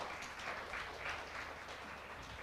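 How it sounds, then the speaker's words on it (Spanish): Church audience applauding the Esperanza choir at a Bible seminar, a dense continuous round of clapping heard faintly and at a distance, with no talk over it. "una vez más vamos a dar fuertes aplausos al coro Esperanza"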